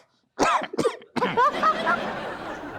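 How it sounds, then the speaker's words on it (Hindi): Two sharp coughs close up, followed by a throaty burst that trails into a chuckle or laugh, in an indoor talk show setting. "आपको तो मैं खांसी की सजा करा दूंगा अगर आप खांसे तो।"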